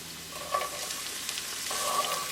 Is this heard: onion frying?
yes